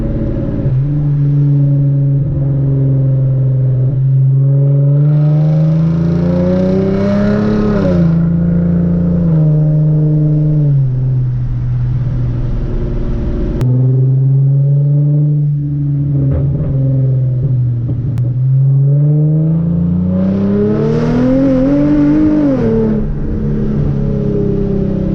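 A Hyundai Genesis Coupe fitted with ARK downpipes is driven at full throttle, its loud exhaust rising in pitch through two long pulls and easing between them, raspy and close.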